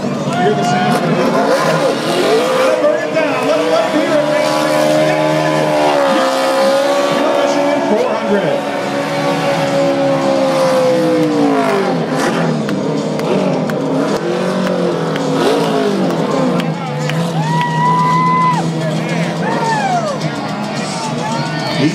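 Toyota race car at a NASCAR race at Michigan, engine roaring loud and steady through a victory burnout with shifting pitch, while a big crowd of race fans cheers underneath.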